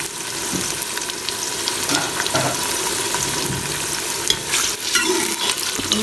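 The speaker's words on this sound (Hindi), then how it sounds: "प्याज को मैं करूँगी 2 मिनट जस्ट फ्राई।" Onions fry in a pan for a beef chana dal, a loud continuous sizzle with scraping stirs of a spoon throughout, no talking.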